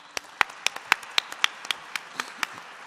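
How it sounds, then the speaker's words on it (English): Light, scattered clapping from an audience at an evening awards presentation, a dozen or so sharp separate claps spaced unevenly over a few seconds, moderately close and without talk. "Let's have our applause for all the sponsors."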